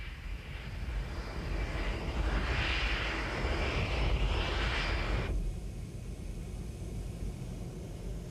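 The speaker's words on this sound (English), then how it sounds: "The Victor, unglamorous but a vital workhorse, retired from strategic bombing duties to perform a quite different strategic task." A Victor, a retired strategic bomber converted into a mid-air refuelling tanker in the Gulf War, drones as a steady, fairly distant jet rumble with a brief louder swell before settling back to a constant background roar.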